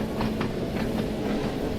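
Old Island Line train from Train Sim World 2, Britain's oldest stock, running with a steady low rumble and faint repeated clacks, heard alone.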